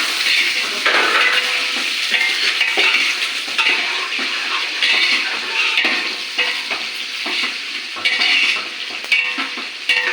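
Water goes into a hot cooking pot in a temple kitchen and is stirred, giving a continuous sizzling hiss with scraping and clinking of a utensil against the pot, close and steady.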